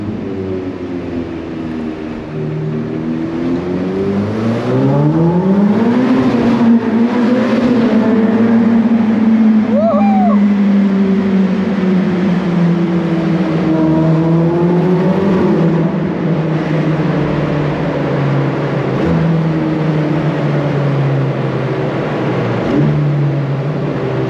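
A Ferrari engine drones loudly from inside the open-roofed car while driving, its pitch rising and falling smoothly through acceleration and gear changes over steady wind and road noise.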